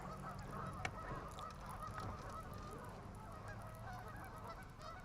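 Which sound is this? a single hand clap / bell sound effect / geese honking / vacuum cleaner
geese honking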